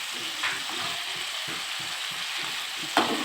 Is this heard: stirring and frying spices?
yes